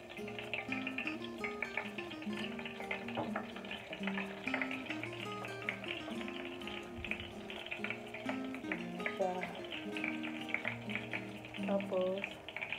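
Eggplant omelet with ground pork fries in hot oil with a continuous close sizzle and crackle, while someone talks over it.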